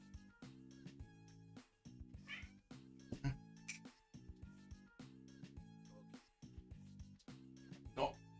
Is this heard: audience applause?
no